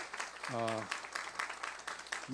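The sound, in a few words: applause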